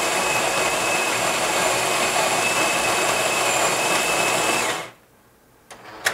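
A super automatic espresso machine runs loud and steady as it brews about six ounces of espresso. The whirring hum goes on for several seconds, then cuts off, and a couple of faint clicks follow.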